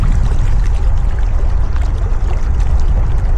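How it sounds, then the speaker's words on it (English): Water lapping and splashing steadily against the edge of a fishery lake in Essex, a close, continuous wash of broadband noise with no talk. "The water hitting on the edge."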